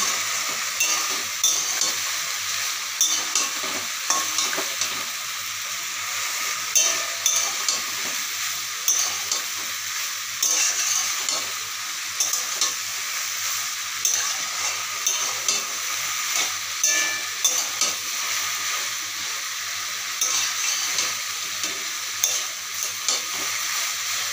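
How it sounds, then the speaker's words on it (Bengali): Water lily vegetable is stirred in a pan after turmeric goes in, with a steady sizzle and hiss of frying under repeated scraping stirs and occasional light clinks, close and moderately quiet. "এবার দেবো কিছু পরিমাণে হলুদ গুঁড়ো, দিয়ে ভালোভাবে নাড়িয়ে নেব।"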